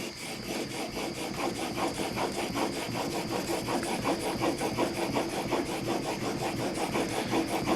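A 1950s Record No. 4 plane blade being honed to a micro bevel, giving a steady, rhythmic scraping rub back and forth on a sharpening surface, close and continuous.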